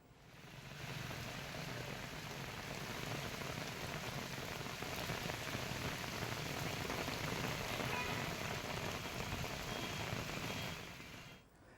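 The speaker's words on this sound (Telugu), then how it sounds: "తిరుపతి జిల్లా వ్యాప్తంగా భారీ వర్షాలు కురుస్తున్నాయి" Heavy rain pours steadily across Tirupati district, a dense, even hiss of drops striking surfaces that holds constant before fading out at the end.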